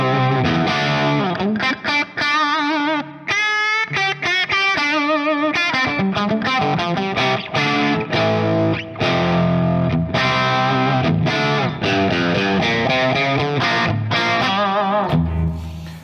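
An electric guitar plays through a homebuilt tube amplifier with its master volume turned down, so it carries a bit less drive. Loud, crunchy distorted chords and riffs sound alone, without voices, with brief gaps between phrases.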